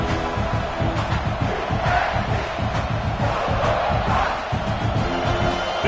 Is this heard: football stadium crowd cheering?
yes